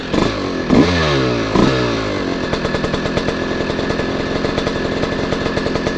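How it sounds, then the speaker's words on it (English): A dirt bike motorcycle engine idles steadily up close, its rapid chugging pulse holding a loud, even rhythm after a couple of brief throttle blips at the start, with no talk over it. "Bike seems like it's running pretty good, idling pretty good."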